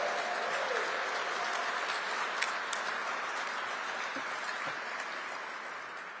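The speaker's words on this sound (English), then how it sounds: "Cheer for that. You're on the front line. Come on." A large conference audience claps and cheers steadily for about six seconds, a dense continuous wash of applause with no voice above it.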